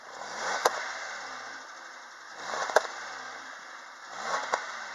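Idling Hyundai/Kia engine from a Solaris/Accent IV/Rio, 134,000 km, no engine fault codes, heard at the exhaust: a steady low rumble with three brief sharp clicks or pops about two seconds apart, moderately quiet, without talk.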